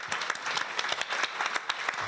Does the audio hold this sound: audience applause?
yes